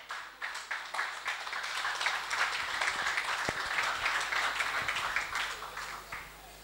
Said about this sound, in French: Sous vos applaudissements, nous allons l'accueillir.